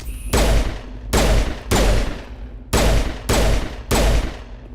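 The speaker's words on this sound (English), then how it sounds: "Let me switch to a pistol." Six loud, separate pistol shots ring out in the video game Mass Effect Legendary Edition, spaced roughly a second apart, each followed by a short fading echo, with no talking.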